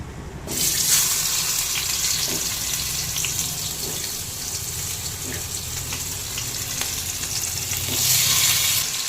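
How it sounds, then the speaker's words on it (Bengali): A whole hilsa fish fries in hot oil in a home kitchen, with a constant bright hiss and sizzle and faint crackles. The sound stays fairly even and swells slightly near the end. "হ্যাঁ, এর মধ্যেই আমি পুরো মাছটাকে ভাজবো। পুরো গরম হয়ে গেছে।"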